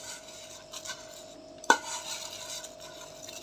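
Vermicelli is added to a pan and stirred, giving soft scraping and rustling with one sharp clink of utensil against the pan midway. The sound is fairly quiet, with a faint steady hum beneath.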